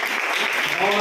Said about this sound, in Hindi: तो हम सबसे पहले जोरदार तालियों से स्वागत करें